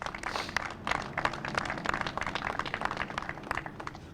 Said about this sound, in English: Round of applause for Clinton.